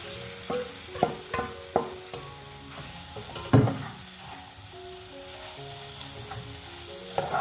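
Paneer fries in oil-rich spice masala, a steady sizzle broken by repeated sharp clatters of a spoon stirring against the pan, one louder knock midway, with no voices.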